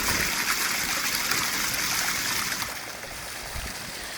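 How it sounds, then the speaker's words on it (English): Water pours and splashes steadily from an Aquascape Biofalls pond waterfall in a continuous rushing stream, slightly softer toward the end, with no voices. "So we got 3 waterfalls. These are Aquascape Biofalls."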